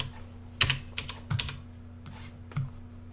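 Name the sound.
typing on computer keyboard in terminal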